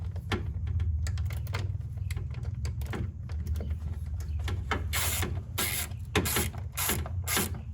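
Cover fasteners being undone by hand, a run of quick, close mechanical clicks and ratcheting ticks over a steady low hum, with a few sharper taps near the end.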